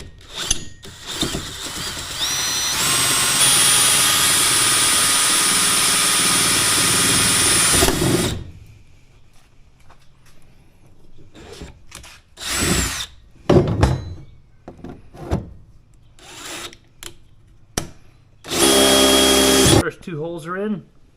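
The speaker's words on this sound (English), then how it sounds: "Alright, it says to use a 3/8 inch drill bit." A power drill with a 3/8 inch bit whirs steadily for several seconds, then stops; short bursts of drilling and a few voice-like sounds follow in a quiet room.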